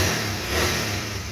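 A 2008 Honda CBR 150 motorcycle engine in fully original condition revving under throttle, a loud, close, continuous mid-pitched engine drone holding steady with a slight swell in the middle.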